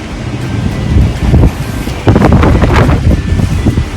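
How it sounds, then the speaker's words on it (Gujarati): Heavy wind with light drizzle blusters close to the microphone at an empty bus station, a continuous rushing roar that swells and drops in gusts, with no one speaking. "બહુ જ પવન છે"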